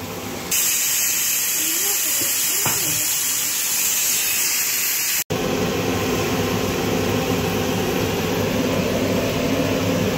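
Chicken cooking in a pan gives off a steady, loud, broadband sizzle and hiss that runs unbroken for the whole stretch, with a brief cut midway and no voice over it.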